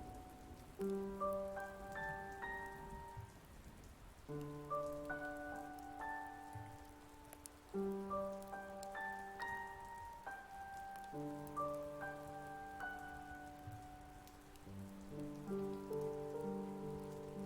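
Steady rain ambience with a slow, sustained piano melody over it, a dark-academia scene set in a castle room with a fire, continuous and even throughout with no voices.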